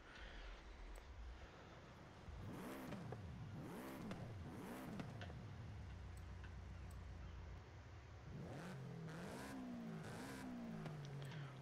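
A 2022 Subaru BRZ with a 2.0 flat-four in Forza Horizon 5 revs up and down in repeated rising and falling sweeps over a steady idle, close and loud, with no one talking.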